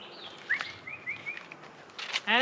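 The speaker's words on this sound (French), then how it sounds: "un oiseau." A bird gives a short series of rising chirps close by, followed by a brief flurry of wingbeats, outdoors in Key West.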